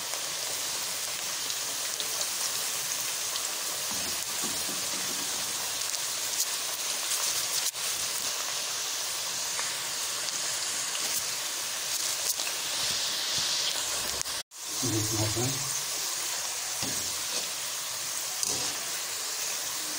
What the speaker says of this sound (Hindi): अब हमारा ऑयल माशाल्लाह अच्छे से गर्म हो गया। अब हमने इसमें अपनी चिप्स ये डालनी है। फ्राई करते हैं।